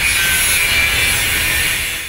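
An angle grinder cuts continuously during renovation work in an apartment building, giving a loud, steady, close abrasive whine with a high metallic edge and no pauses.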